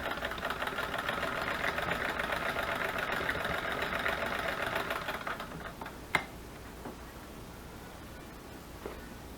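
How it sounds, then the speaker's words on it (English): An old hand-crank sewing machine runs in a steady, fairly loud mechanical whir for about five seconds, then stops, leaving a few isolated clicks and knocks over quieter background. "these hand crank sewing machines are a little hard to control sometimes"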